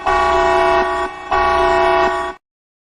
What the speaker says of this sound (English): We got the red alert siren there.